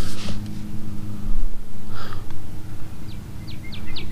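Birds chirp in short, high bursts, a quick series toward the end, over steady outdoor rumble and a low hum.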